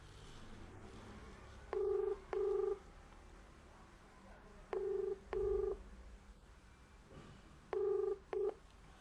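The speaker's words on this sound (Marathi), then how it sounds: "आपण आता काटकर साहेबांना फोन करूया बघू यांच्या हातात काही आहे का ते काय बोलतात ते." A telephone number is keyed in as six loud touch-tone beeps in three quick pairs, spaced apart over a faint background hum.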